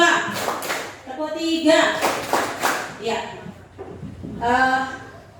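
Teachers at a literacy training session in Central Lombok clap in a counted rhythmic pattern, with sharp bursts of claps mixed with group voices chanting along.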